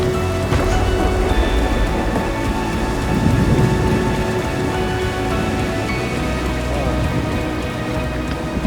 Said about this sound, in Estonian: Ma lihtsalt kuulen, kuidas vihma sajab seal kaugel.